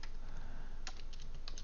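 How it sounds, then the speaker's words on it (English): Rapid typing on a computer keyboard, a quick run of close, crisp keystrokes with a few sharper clacks standing out, under a steady low background hum. "I can't freaking type."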